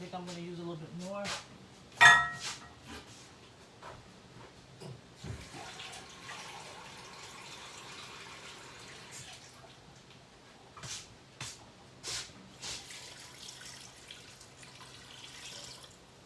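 Tap water runs and pours into a pot for vegetable soup, a steady splashing stream with clinks and knocks of cookware around it, fairly close.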